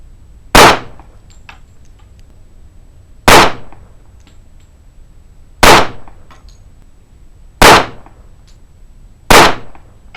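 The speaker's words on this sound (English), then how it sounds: "This gun is shooting very nicely." Five sharp handgun shots ring out at a shooting range, each a loud, close crack with a brief decaying tail, spaced unevenly about two seconds apart against quiet background hiss.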